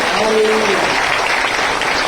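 A church congregation claps loudly and steadily in a dense, continuous roar, with a voice rising briefly over it at the start.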